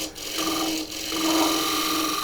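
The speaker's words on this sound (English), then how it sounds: "So I will sand this before I turn it around" Sandpaper rasps steadily against a wooden dovetail tenon on a turning piece, a close, continuous abrasive rubbing with two brief dips, no voices.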